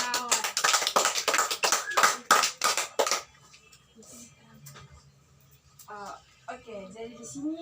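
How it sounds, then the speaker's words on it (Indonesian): Schoolchildren in a classroom clap for a classmate in a brief burst of quick, close, uneven claps lasting about three seconds, followed by quiet murmuring voices. "Tepuk tangan dulu buat kawan."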